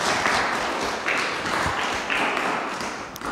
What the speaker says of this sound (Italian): Spero si siano sentiti gli applausi